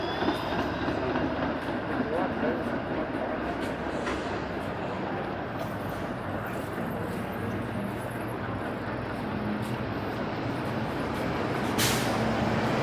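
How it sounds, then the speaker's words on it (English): A 505 Dundas streetcar passes by on a Toronto street near Kensington Market, a steady close rumble and rolling noise blended with surrounding street traffic, holding fairly level throughout. "that's a 505 Dundas streetcar going by"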